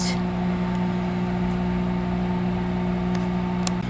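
A microwave oven hums steadily while cooking a high-protein, low-carb pizza, its drone constant and close with a few faint clicks and rustles near the end.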